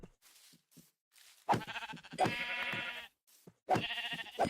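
Sheep bleating in Minecraft, several short bleats spaced apart with quiet gaps, fairly close and clear.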